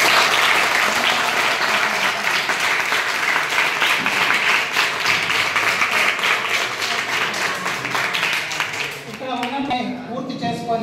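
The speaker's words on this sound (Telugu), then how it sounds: "మరొకసారి సార్ గారికి పిల్లలు చప్పట్లతో" Schoolchildren applauding at a school event, a dense, sustained round of clapping from a large group that tapers off near the end as a voice begins talking.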